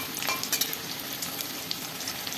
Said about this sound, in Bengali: আমি একটু বেশি তেলে ভেজে নিচ্ছি